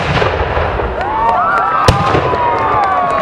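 Royal Artillery cannon fired at an 1812 battle reenactment, heard as one sharp, loud boom partway through, set against steady outdoor crowd noise and people talking in the background.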